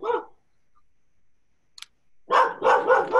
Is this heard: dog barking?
yes